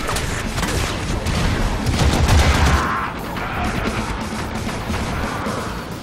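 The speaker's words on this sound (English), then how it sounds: "A sniper shooting me with a bunch of other shivers around me." Gunfire in the Warframe video game, a rapid clattering fusillade of shots over dense low rumble, loud and busy, easing slightly after a few seconds.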